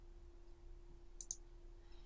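A computer mouse gives a quick double click, two sharp, close ticks in an otherwise quiet room with a steady low electrical hum.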